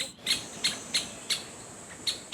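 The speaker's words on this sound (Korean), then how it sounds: "오색 딱따구리 소리가 거세지는 것은 그의 영역에 발을 디뎠기 때문입니다." A great spotted woodpecker calls in a forest, giving a series of sharp, high single notes about every third of a second. The calls sound fairly close and come through clearly over faint background noise.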